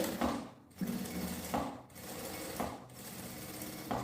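Sewing machine stitching a second seam on a printed fabric lining for a small luxury pouch, a close steady mechanical whir with rhythmic needle thumps and brief pauses roughly every second.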